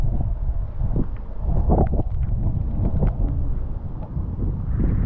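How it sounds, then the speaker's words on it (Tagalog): Strong wind buffets the microphone in a continuous low roar with gusty surges, heard outdoors by the sea beside a damaged hut in Panukulan, Quezon Province, with no talk. "Hangin dito."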